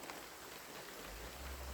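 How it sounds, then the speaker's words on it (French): Rain falls outside a parked car, heard from inside as a steady, dense hiss of drops pattering on the surfaces, faint and continuous, with a low rumble rising near the end. "Je attendais que ça se calme la pluie, mais ça n'a pas l'air vouloir de trop se calmer."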